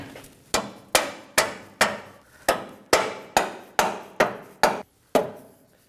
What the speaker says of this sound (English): We're gonna go ahead and use a rubber mallet just to drive it in.